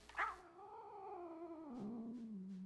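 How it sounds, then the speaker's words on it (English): A cat in the Calico video game gives a drawn-out meow that slides slowly downward. It sounds close and fairly quiet, with faint soft ticks near the end. "Right by the beach umbrella here is Loaf the cat"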